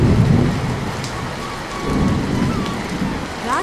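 Heavy rain pours during a night thunderstorm as low rolling thunder rumbles swell and fade beneath the dense hiss of falling water, loud and close, with no talking.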